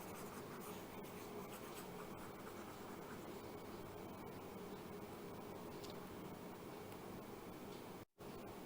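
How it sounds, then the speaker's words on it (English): Steady, continuous rubbing of an eraser or cloth wiping writing off a board during a biology lecture, faint and even throughout with a brief dropout near the end. "Now let me erase this off."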